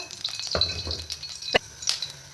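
Two spoonfuls of cooking oil swirled around a pan over heat for a vegetable soup, giving a soft sizzle with a few sharp crackles and scraping clicks close by.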